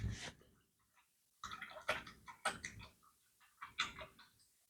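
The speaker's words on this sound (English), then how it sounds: "So I'm gonna wash my brush out." An acrylic paintbrush is swished and rinsed in a water jar, giving several short bursts of splashing and clinking, close and fairly quiet, with brief pauses between.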